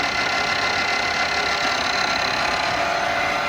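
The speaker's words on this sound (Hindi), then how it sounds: "1600 rotations per minute is the current spindle speed." A Vernier DB-59L bed-type milling machine with its spindle turning at 1600 rpm, giving a steady, loud, close mechanical whir and hum that stays constant throughout with no talk.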